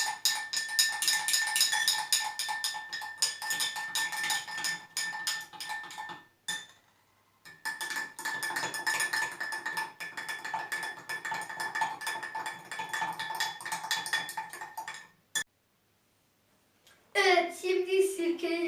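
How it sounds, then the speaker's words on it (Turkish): A spoon scrapes and clinks against a container while stirring a mixture for a home volcano experiment, in long continuous bursts broken by two brief pauses, followed by a short sound at the end. "Şimdi onu karıştırıyoruz."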